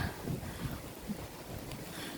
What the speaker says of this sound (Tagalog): Mahangin, oh. Sobrang hangin.